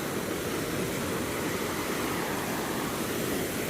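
Waves rolling into a narrow channel at Nha Trang beach in Vietnam, a loud, steady broadband surf wash that continues without a break and has no voices.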